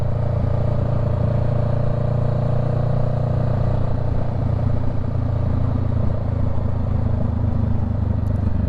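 A Honda Rebel 500 motorcycle fitted with a Shorty GP aftermarket exhaust with baffle idles loudly nearby with a deep, throaty exhaust rumble, steady and continuous with no talking.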